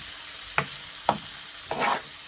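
Prawns and smoked sausage being stirred in a sizzling pan, three distinct scraping strokes over a soft background sizzle, close with no talk.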